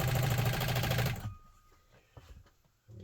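A Pfaff 130 sewing machine runs at a steady, rapid clatter while sewing tiny stitches, loud and close for about a second, then stops, and a few light mechanical clicks and handling sounds follow.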